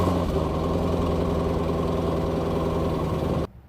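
Stock exhaust on a C5 Corvette idling before a header swap, a steady deep rumble with a lumpy low pulse, close and constant until it cuts off abruptly near the end.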